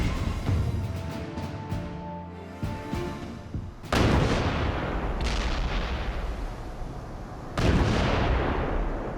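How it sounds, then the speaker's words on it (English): Massive naval bombardment opening the November 1943 American assault on Tarawa: heavy artillery blasts boom out, with a burst of sharp reports early on and big rolling detonations near four and seven and a half seconds trailing into a dense rumble. "the American attack begins with a massive naval bombardment"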